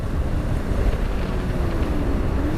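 Wind buffets the microphone while riding a 125cc motorcycle on a warm day near the coast, a constant low roaring rush with steady engine drone underneath.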